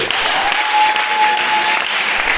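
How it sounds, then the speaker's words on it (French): Loud, dense applause from a church congregation cheering for the Lord, a steady wash of clapping that fills the room throughout, with a faint held tone running under it. "Est-ce qu'on peut acclamer fort pour le Seigneur?"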